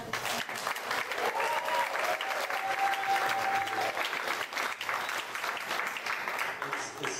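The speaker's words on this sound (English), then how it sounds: "why don't you give them a hand of applause?" Church congregation applauding at a Sunday morning service, a steady wash of clapping from many hands that fills the whole stretch at moderate level, with a faint sustained tone briefly riding above it.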